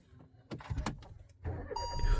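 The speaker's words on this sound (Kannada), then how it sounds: "ಹೇ, ಗಾಡಿ ಆನಾಯ್ತು." A vehicle switched on with a button press: a sharp burst of clicking and rustling, a second jolt, then a steady run of bright electronic tones that build in loudness over the final moments.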